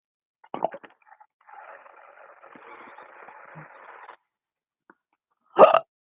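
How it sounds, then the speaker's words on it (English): A person lying in bed hiccups sharply twice, a short burst near the start and a louder one at the end, with a faint murmuring sound between them in a quiet room. "And I'm gonna get hiccups, I can tell."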